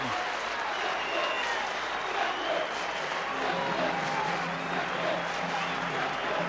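Rugby league crowd at the Boulevard stadium, Hull, giving a thunderous welcome as the Hull team runs out against Barrow, a steady wash of cheering and applause filling the whole stretch at even loudness.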